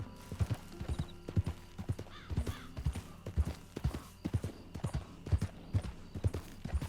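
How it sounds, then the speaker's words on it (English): Horses gallop in the video game Red Dead Redemption 2: a steady, rhythmic stream of hoofbeats continues for several seconds at moderate volume, with a faint whinny mixed in. "You hear those horses, those shots?"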